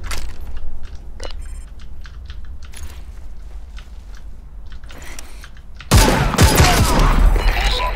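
Gunfire in the video game Super People, scattered sharp shots and clicks at first, then a loud burst of dense fusillade near the end, heard close through game audio.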